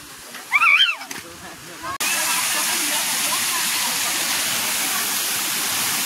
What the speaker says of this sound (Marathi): आज आपण धबधब्यावरती आलेलो आहोत